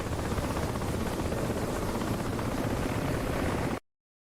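Helicopters near an airfield in the DCS flight simulator game, a dense, steady rotor roar that holds at constant loudness for nearly four seconds before cutting off sharply.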